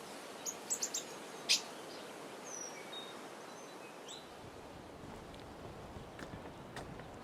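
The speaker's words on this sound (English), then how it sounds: "the forest resonates with the calls of insects and birds" On a forest hiking trail near Taipei's Xindian River, scattered bird chirps and tweets ring out over a soft, steady bed of insect and forest ambience. A few sharp calls stand out early on, and faint footsteps are heard.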